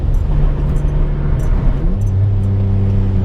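A turbocharged 2006 Honda Accord with a J32 engine accelerates from inside the car. The engine roars loud and close, and its droning pitch steps and then climbs as it pulls into boost.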